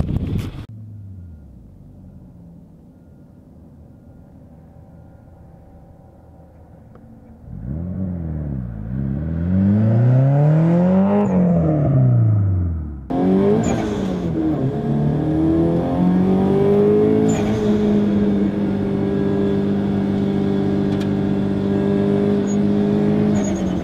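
A Subaru WRX STi fitted with a V8 idles low, then revs up and down in repeated swelling sweeps before settling into loud, steady driving, close by.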